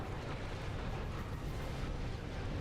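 An enemy ship blows up in Ratchet & Clank: Going Commando with a dense, roaring, crackling blast that fills the whole stretch at moderate loudness, with no speech.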